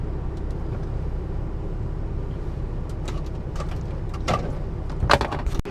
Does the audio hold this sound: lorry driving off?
yes